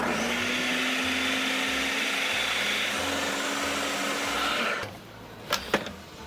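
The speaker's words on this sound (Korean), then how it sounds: "마늘하고 이제 갈아야죠. 오랜만에 등장하는 닌자네요." A Ninja blender grinding garlic runs loud and steady with a whirring motor and churning, then stops, followed by a couple of sharp clicks and knocks.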